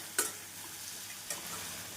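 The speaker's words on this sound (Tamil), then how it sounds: "இஞ்சி பூண்டு விழுது சேர்த்து நன்றாக வதக்கிய பின்னர் நறுக்கிய பச்சை மிளகாயை சேர்த்து விடலாம்" Ginger garlic paste and green chillies being sautéed for ghee rice, a soft, steady sizzle in the pan broken by two sharp clicks of stirring, quiet and close, with no voice.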